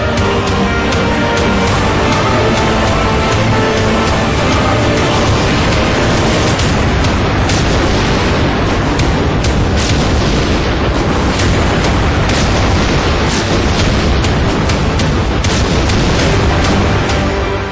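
A dense, continuous barrage of loud booms and blasts from missiles fired by a high-altitude Predator drone, rumbling without pause throughout, with no voices.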